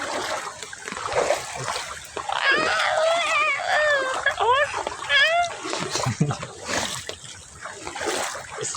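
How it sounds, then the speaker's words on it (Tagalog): Floodwater splashes and churns continuously under excited, high-pitched voices shouting and exclaiming nearby. "kumalaki na yata ito tubig ah"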